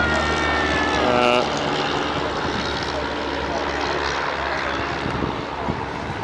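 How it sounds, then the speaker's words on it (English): Propeller aircraft flying at a Scottish airshow, such as a Chipmunk or Bulldog trainer, a loud continuous engine drone with a pitch sweep early on, accompanied by crowd noise. "Can do aerobatic manoeuvres in these aircraft, but I think the pilots are being a bit careful today."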